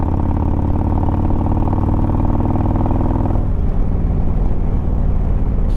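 A Harley-Davidson motorcycle engine in anarchy ride mode, running loud and steady at high revs for about three seconds, then dropping to a rougher, lower idle-like rumble.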